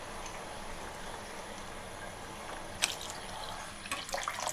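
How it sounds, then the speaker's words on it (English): Chilled water runs steadily into a pan while brewing Kashmiri pink tea, a continuous close wash of liquid with a few brighter splashes and clinks near the end. "So I'll add 2 more cups of chilled water to it."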